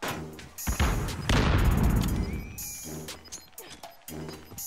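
A grenade goes off in a video game with a heavy booming crash that trails into a long rumbling decay, surrounded by scattered in-game impacts and clatter.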